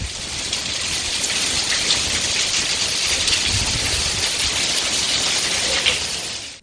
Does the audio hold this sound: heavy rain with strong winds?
yes